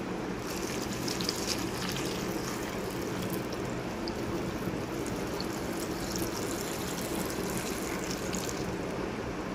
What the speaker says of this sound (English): and then we shall add water to this.